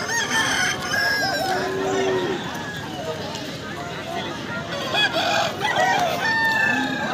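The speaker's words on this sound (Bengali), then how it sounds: "এই হাটে খুব সুন্দর সুন্দর মুরগ নেমেছে দেখুন" Roosters at the Talthal rooster market in Purulia crowing and clucking amid a busy outdoor crowd, several calls rising over the din, with people talking nearby.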